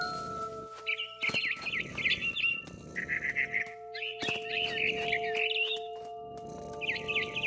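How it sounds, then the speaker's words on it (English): Rapid twittering barn swallow chirps come in repeated bursts over a steady synthetic hum, moderately quiet with brief pauses between calls, from the video game What Remains of Edith Finch. "Then I heard chirping outside my window. It was a barn swallow going back to her nest."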